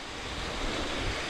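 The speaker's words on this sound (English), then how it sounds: "Blackden Brook waterfall, the main one." Rushing water of Blackden Brook's main waterfall on the moor near Edale, a steady broadband roar with no pauses, loud and close, with some wind buffeting the microphone.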